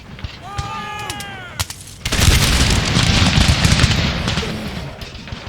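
Ranks of musket volleys ring out in the Empire Total War game: a loud broadband burst at two seconds is followed by sustained rolling crackle of fire, after some brief tonal effects and a sharp crack at the start.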